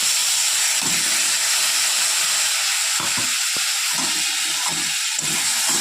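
Potatoes and pointed gourd sizzle and hiss steadily in a hot pan, with occasional scraping clatter from stirring.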